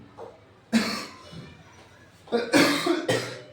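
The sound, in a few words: cough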